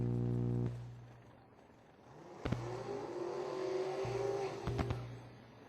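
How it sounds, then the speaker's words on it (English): Turbocharged drag racing car doing a burnout at an elimination event, a loud engine drone that rises into a sustained high-revving roar with a couple of sharp pops, steady and close. "The turbocharged entry does the burnout over there on the left-hand side."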